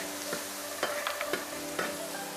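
Minced meat stir-fries in a wok with ginger and garlic: a soft, steady sizzle with a few scraping strokes of the spatula, close and fairly quiet, without speech.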